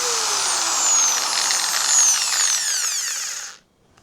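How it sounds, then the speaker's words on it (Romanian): A 710 W angle grinder runs at a steady high whine for about three and a half seconds, then cuts off abruptly, leaving near silence. "Am adus un flex care zice că e de 710 W."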